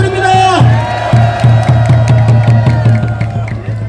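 Crowd at an outdoor patriotic flag rally at Seoul Station claps and cheers, a loud, steady mass of applause with rhythmic clapping bursts and shouts, close and continuous throughout.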